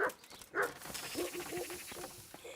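A dog in the video game Kingdom Come: Deliverance gives a few short, faint whimpering yips and barks over a busy background of game ambience.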